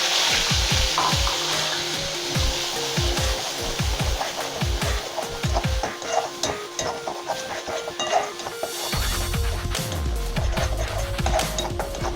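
Onion paste fries in hot oil over a medium flame with a loud, steady sizzle and hiss. Sharp crackles and pops come early, and the frying turns denser and smoother near the end.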